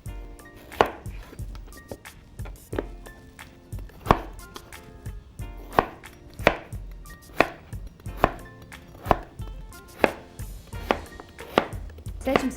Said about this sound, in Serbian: Krompir sečem na kocke.